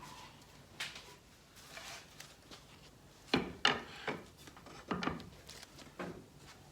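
Stain is wiped onto the wooden stringers of a modern sofa table, making quiet, close rubbing strokes in irregular bursts, a few louder swipes in the middle, with no talking.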